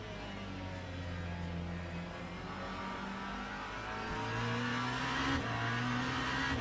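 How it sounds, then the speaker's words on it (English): A race car engine in the Le Mans Ultimate racing game on the Laguna Seca circuit. A steady, droning engine note holds through the clip, then rises in pitch and loudness toward the end as the car accelerates. "Thought the engine was a bit silent"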